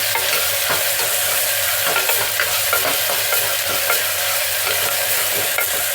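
Ginger garlic paste and onions fry for a mutton curry in a loud, continuous sizzle, with frequent stirring scrapes close by and no talking.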